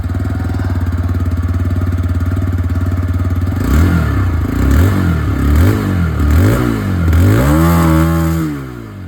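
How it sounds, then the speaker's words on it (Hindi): A TVS Raider 125 iGo Assist motorcycle idles with a steady exhaust thrum, then its throttle is blipped in several rising-and-falling revs up close, ending in a longer pull before easing off. "ये जो आइगो असिस्ट वाली मॉडल है इसी की जो एग्जॉस्ट साउंड है वो मैं आप लोगों को सुना दूँ"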